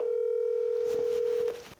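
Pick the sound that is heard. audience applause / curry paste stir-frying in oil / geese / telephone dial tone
telephone dial tone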